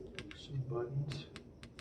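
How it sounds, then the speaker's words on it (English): Buttons on a Sony sound system are pressed in a quick series of sharp plastic clicks, close by, with a voice briefly murmuring among them. "Obligatory clicking of the buttons."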